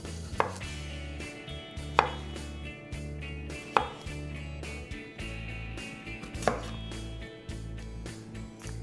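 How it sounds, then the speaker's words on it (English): A knife slices colored potatoes in half on a board with five sharp, separate chops a second or two apart, close and fairly quiet, with no voices. "I think I might slice these in half real quick."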